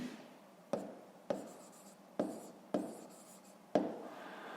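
Pen strokes scratch on paper at a steady rhythm, about six sharp taps and scrawls close by and fairly quiet, with no voice over them.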